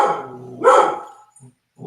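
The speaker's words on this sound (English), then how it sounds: "Dog got a little wild." A dog barks indoors, close and fairly loud, giving one drawn-out bark followed by a short yip and the start of another bark.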